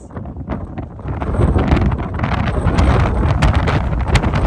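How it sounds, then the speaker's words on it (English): Strong, cold wind on an Appalachian Trail summit roars and buffets the microphone continuously, growing louder and rougher over a few seconds, with no voices. "Oh my God, it's so windy, so cold."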